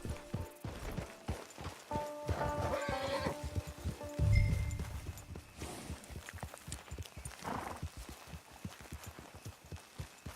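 Horse hooves clip-clopping in the Red Dead Online video game, a steady rhythmic patter of hoofbeats near and moderately quiet, with faint ambient game sounds and a brief neigh-like swell midway.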